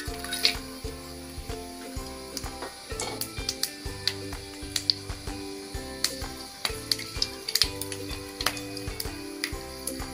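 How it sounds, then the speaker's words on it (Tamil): Spices for tempering a vegetable kurma crackle and sizzle in hot oil with scattered sharp pops, joined by the occasional clink of a utensil against the pan. "தாளிக்கிறதுக்கு நம்ம எடுத்து வச்ச ஸ்பைசஸ் எல்லாம் சேர்த்துடலாங்க."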